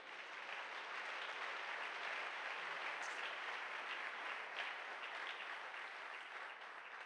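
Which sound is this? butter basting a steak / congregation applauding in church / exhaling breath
congregation applauding in church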